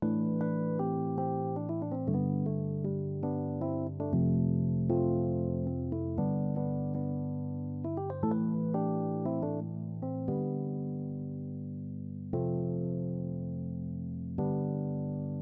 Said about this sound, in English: the same e-piano sound plays something else at the hook